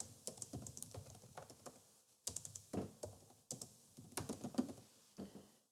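Quiet, close keystrokes tap on a computer keyboard in uneven clusters broken by short pauses, with no other sound.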